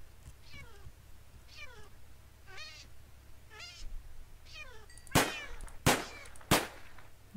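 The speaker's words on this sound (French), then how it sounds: "C'est un chat zombie, je n'y peux rien." Several drawn-out, wavering meows from a zombie cat in modded Minecraft repeat at intervals over a low hum, followed by three loud, sharp bangs.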